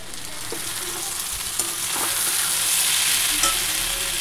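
Vegetables sizzle steadily in a hot pan, a dense crackling hiss with a few soft stirring clicks, close and continuous with no talking.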